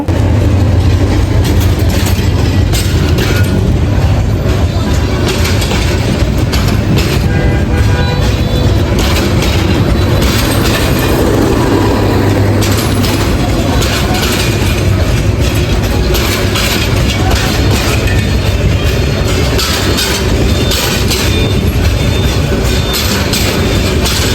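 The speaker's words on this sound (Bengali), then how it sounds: "এখানে গেট পারে হচ্ছে একটা ট্রেন যাচ্ছিল" A train rumbles past at a railway crossing gate, loud and close, with heavy continuous clatter of wheels on rails throughout.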